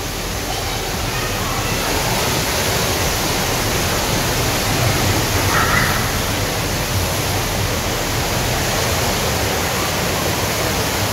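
A large indoor waterfall in the middle of a Singapore airport terminal fills the space with a steady, loud, broadband roar of falling water, continuous and unchanging throughout.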